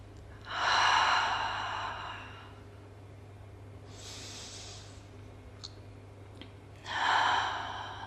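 Slow, deep breathing during a Pilates cool-down stretch: two long, close, audible breaths with a softer exhale between them, heard alone over a quiet background hum.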